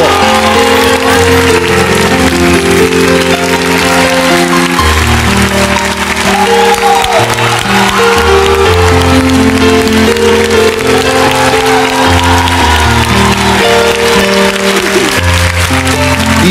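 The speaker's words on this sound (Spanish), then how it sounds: "Fuerte el aplauso para ella, por favor." Studio audience applause sending off a departing contestant on a Spanish-language TV parody competition show, loud and sustained throughout under steady background music.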